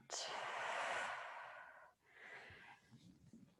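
A slow yoga exhale, close and breathy, swelling then tapering off, followed by a brief pause and a second softer breath.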